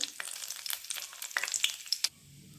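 Cumin seeds and a dried byadgi chilli crackle and sizzle in hot oil or ghee for a tempering, with sharp pops over a steady fry that stops abruptly near the end.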